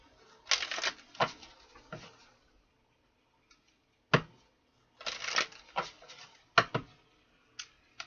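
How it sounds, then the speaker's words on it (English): Tarot cards being shuffled in a few quick riffling bursts with sharp taps and pauses between, close and fairly quiet, with no talking. "All right, let's do 3 shuffles."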